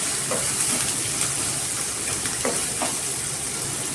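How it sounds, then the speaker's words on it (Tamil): Onion, green chili and curry leaves sauté together in a pan, giving a continuous close frying hiss with light stirring scrapes. "வெங்காயம், பச்சை மிளகா, கருவேப்பிலை எல்லாத்தையும் ஒன்றாவே நம்ம சேர்த்துக்கலாம். சேர்த்துட்டு நல்லா வதக்கிக்கலாம்."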